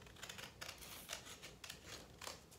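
Scissors snip along a folded edge of craft paper, squaring a sheet for a pinwheel; a run of several steady, evenly spaced crisp cuts close by, with no talking.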